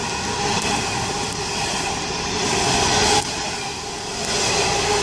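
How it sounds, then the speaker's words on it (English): A coal train rumbles past close by at Thornton with a loud, steady roar, faint wheel squeal and rattling cars throughout. "Just as that coal train went through, we got another one"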